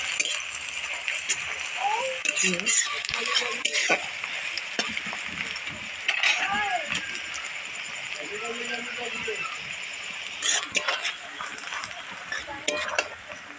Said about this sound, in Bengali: একদম লালচে করে পেঁয়াজটাকে ভেজে নেব। আবার একটু নাড়াচাড়া দিয়ে দেবো।